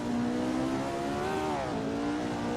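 A Lotus Formula One race car with a 3-litre Cosworth V8 holds a loud, steady engine howl that climbs in pitch and then drops sharply, continuous and close with no talk.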